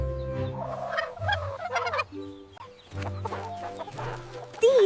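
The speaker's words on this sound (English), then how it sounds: "This is a turkey." A turkey gobbling in several rapid, warbling bursts with clucking fowl sounds in between, heard close and fairly clear.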